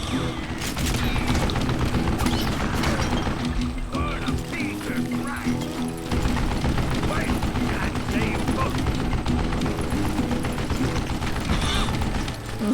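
Mounted gun firing in the Western shooter Call of Juarez: Gunslinger, a dense, continuous barrage of gunfire layered with game sound effects that stays loud throughout.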